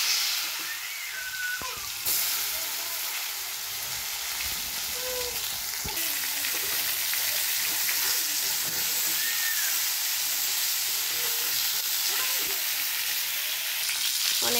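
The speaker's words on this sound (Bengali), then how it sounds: "এবার আমরা পটলটাকে ভেজে নেব, পটল আলু ভেজে নেব একসঙ্গে।" Pointed gourd and potatoes fry together in hot oil with black cumin seeds, giving a steady, close sizzle and hiss with occasional stirring scrapes and no talk.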